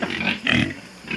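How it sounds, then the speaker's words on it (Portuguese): Pigs on a Brazilian farm grunt and squeal in three short bursts, close and fairly loud, with a brief pause between each. "Olha os porcos."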